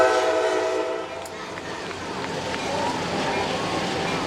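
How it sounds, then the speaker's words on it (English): A train whistle played over the sound system at a high school football game between Fairfield and Sessor-Valier rings out as a sustained horn-like blast in the opening second, then fades into broad stadium crowd noise. "They played the train whistle upstairs, didn't they?"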